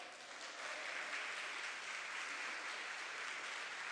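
Church congregation clapping together in a sustained, even burst of applause, steady and fairly distant, with no voices over it.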